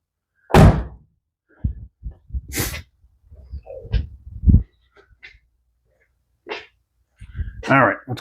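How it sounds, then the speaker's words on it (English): A door is shut during transmission removal work on a 1995 Camaro Z28, giving several close, solid thumps and knocks scattered among short bursts of voice and movement. "Close this door."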